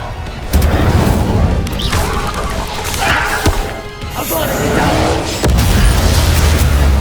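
Bombarda and Incendio spells cast in Hogwarts Legacy: loud crashing impacts and booming bursts in quick succession, with thuds, whooshes and a sharp crack amid the clatter.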